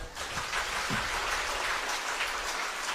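A church congregation applauds together, a steady wash of clapping that stays even and moderately loud for the full three seconds.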